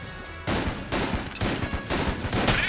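A rapid-fire gun in the video game Enter the Gungeon, quick bursts of loud shots starting after a short quiet moment and repeating in a steady rhythm.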